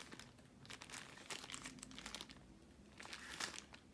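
A small plastic bag being handled close up, giving quiet, irregular crinkling and rustling throughout with no talk.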